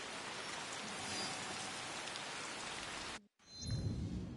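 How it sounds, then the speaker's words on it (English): Heavy rain pours in the Japanese setting of the game Assassin's Creed Shadows, a loud dense hiss that cuts out for a moment and returns with a low rumble beneath it. "It is tipping down rain by the sounds of things."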